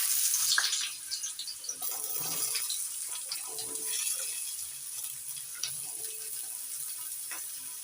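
Cut potatoes frying in hot mustard oil give off a steady, faint hiss and crackle of sizzling, with a few clinks of cooking utensils.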